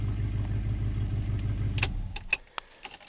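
A 1972 Plymouth Fury engine idles with a low, steady rumble up close, then shuts off after about two seconds, followed by a few jangling keys and light clicks.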